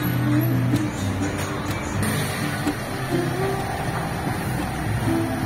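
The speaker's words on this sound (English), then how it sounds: "To the taxi going to Ecoland." A taxi rides through Davao in the small hours of the morning, carrying a steady in-cabin engine and road rumble with a constant hiss and faint clicks, and no talking.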